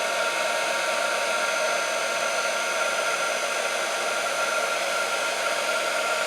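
A heat tool warms gold metallic shrink film, giving a steady, close, uninterrupted blowing hiss with a whine that holds at one level throughout.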